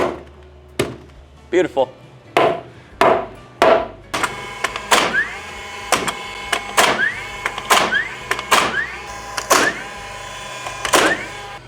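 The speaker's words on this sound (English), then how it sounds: "I need to get a sledgehammer." Repeated heavy sledgehammer blows drive a wooden header into place during a master bedroom renovation, about a dozen sharp impacts in a steady rhythm, loud and close, with a brief spoken remark.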